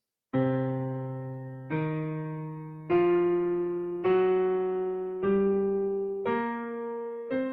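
An instrument plays a slow run of single sustained notes, each struck cleanly and ringing out before the next, stepping upward in a bluesy scale.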